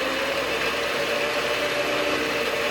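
Small benchtop lathe motor running steadily just after powering on, a constant close hum with a faint tonal whine and no speech.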